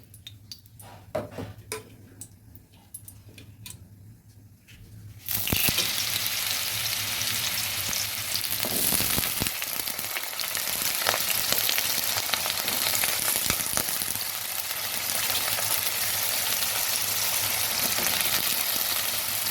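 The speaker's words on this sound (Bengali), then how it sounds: "এবার এগুলো ভেজে নেব।" Small cut, washed potato pieces drop into hot oil, and after a few light clicks and knocks a loud, continuous sizzle erupts and holds steady, with occasional stirring scrapes in the pan.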